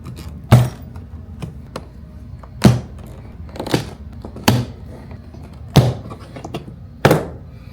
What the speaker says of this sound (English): And now we're going to take off the door card.